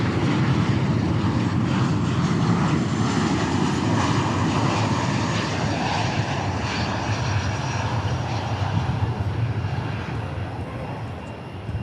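A plane lands at DFW Airport with a loud, close rumbling roar that holds steady and then slowly fades near the end.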